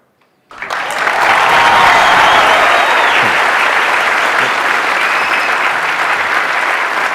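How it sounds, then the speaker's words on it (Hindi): An audience breaks into loud, sustained applause at a live talk, starting abruptly from silence and holding as a dense wash of clapping for several seconds. "मेरा दिल रखने के लिए तालियां बजा रहे हो?"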